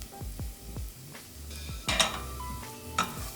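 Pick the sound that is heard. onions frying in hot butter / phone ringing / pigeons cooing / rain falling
onions frying in hot butter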